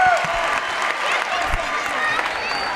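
Crowd noise from a Class B district championship basketball game between the Tecumseh Indians and Onsted Wildcats, a loud steady roar of cheering with claps running through it and no clear chant rhythm.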